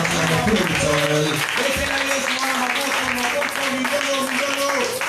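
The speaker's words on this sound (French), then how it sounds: "Nous pouvons acclamer pour l'Éternel." A congregation at a French-language church service claps and cheers in a steady, dense wash of applause, while a voice and sustained music carry on over the crowd throughout.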